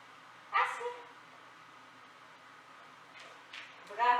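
A dog gives a few short yips and barks during a play training session, one near the start and a couple at the end, with quiet pauses between them.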